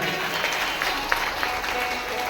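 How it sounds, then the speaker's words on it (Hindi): Applause at a religious Bhagavat katha gathering, with a crowd clapping in a steady, fairly loud wash that continues evenly and has a few sharper individual claps. "एक बार जोरदार ताली हो जाए"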